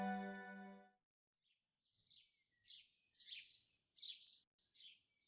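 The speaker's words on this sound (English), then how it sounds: "I can hear birds chirping outside." Birds chirp outside in a scene from the visual novel game Tsukihime: A Piece of Blue Glass Moon. A short steady tone comes first, then a series of quiet, distant tweets in irregular bursts.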